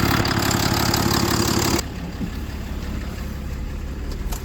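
A Ram 3500 pickup truck engine rumbles steadily at idle close by, its tone dropping and settling lower partway through, with no voices.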